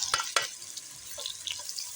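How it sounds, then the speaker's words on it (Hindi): Onions frying in a pan with whole spices for a beef white korma, giving brief crackling sizzles and faint spitting, with a couple of sharp stirring clicks near the start. "अब हम प्याज भून लेंगे।"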